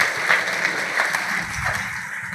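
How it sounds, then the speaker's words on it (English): An audience at a business event applauds a group, a moderately loud continuous patter of clapping with a low murmur underneath. "please give them a round of applause"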